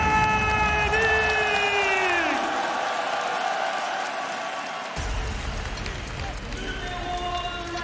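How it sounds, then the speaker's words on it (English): A large crowd at the 2024 League of Legends Worlds quarterfinals cheers and applauds loudly, with shouting and whoops, while tones sweep and music plays over the noise. "un tonnerre d'applaudissements pour quart de finaliste"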